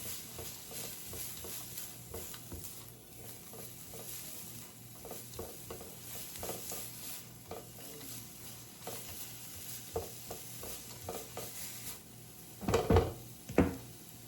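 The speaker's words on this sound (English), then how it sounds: "And let these soften up. I'll saute." Vegetables soften in a hot pan for Korean-style bulgogi with napa cabbage, giving a low steady sizzle with occasional stirring scrapes and light utensil taps. A couple of louder clatters near the end stand out against the faint, close frying.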